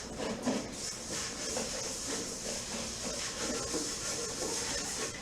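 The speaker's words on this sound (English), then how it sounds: "And just keep mixing it together until it starts to really bind together and get soft." Warm butter and sugar for chocolate chip cookie dough are worked together by hand, a soft, continuous gritty rubbing and scraping close by, steady throughout with no speech.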